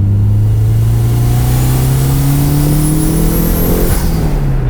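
A DSM car's engine revs hard under turbo boost, its loud, steady note climbing in pitch for about four seconds before easing off near the end, with no talk over it.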